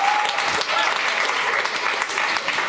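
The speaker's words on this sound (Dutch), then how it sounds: "ik zie ze hard klappen" Audience at a municipal political debate claps steadily, a dense, even patter of many hands at moderate level throughout, without speech over it.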